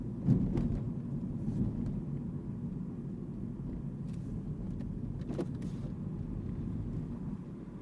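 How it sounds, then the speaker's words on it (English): Hefty vehicle on a road: a low, steady rumble of a heavy motor passing nearby, continuous and moderately quiet, with a couple of faint clicks on top. "That's a hefty vehicle."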